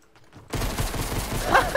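Fortnite gunfire in a capture-the-flag match, a short burst of shots that kicks in loudly after a quiet opening and continues to the end.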